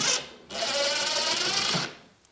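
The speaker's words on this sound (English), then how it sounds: "we'll insert our drill bit here, and you want to make sure you have it in reverse" A power drill whirs close by in a steady high-pitched burst lasting over a second, after a brief short spin just before.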